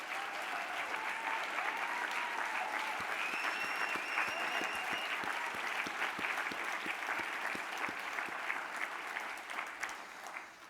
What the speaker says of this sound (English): give a big round of applause to my wife, Corinne, and my boys, Kenneth and Tristan